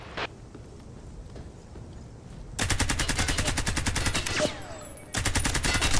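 Rapid automatic gunfire from covering fire in the video game Hired Ops, a loud steady burst of shots that cuts off briefly and resumes, with lighter clatter before it starts.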